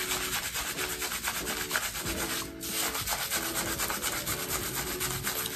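Fingers scrub shampoo into the roots of dyed grey hair, a close, continuous soft rubbing and squelching with a rhythmic texture and no talking.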